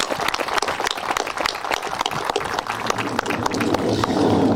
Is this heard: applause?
yes